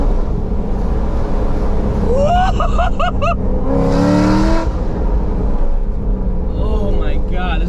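Chevrolet C6 Corvette Grand Sport LS3 V8 rumbling steadily from inside the cabin while coasting through a turn without throttle, a driver talking over the engine drone in several short bursts.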